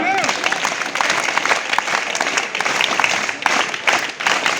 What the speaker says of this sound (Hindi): बहुत बढ़िया जोरदार तालियों से